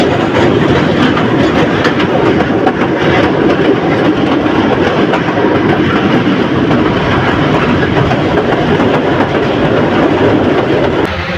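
The Kalni Express passenger train rumbles steadily along the rails between Narsingdi and Gazipur districts, Bangladesh, with continuous clattering wheel noise and a broad, loud roar, no voices.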